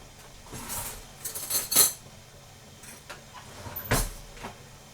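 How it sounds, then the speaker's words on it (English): A spoon stirs food in a pot on a cooling burner, giving scattered scraping and clinking knocks of varying loudness, with quiet gaps between them. "So I'm going to stir this up"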